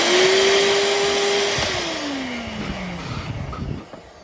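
A Sanitaire Professional upright vacuum cleaner, powered up after two years of sitting unused, gives a loud close motor whine that slowly drops in pitch and fades as it winds down.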